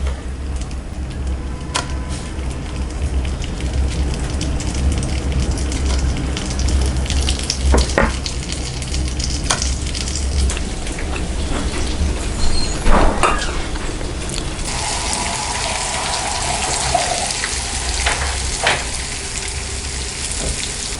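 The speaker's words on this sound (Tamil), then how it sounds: "இப்போ நம்ம அப்படியே ஃப்ரை பண்ணிக்கலாம்" Semolina-coated raw banana slices fry in a pan, a continuous close sizzle and crackle with a low rumble beneath, occasional sharper pops and stirring scrapes, and no talking.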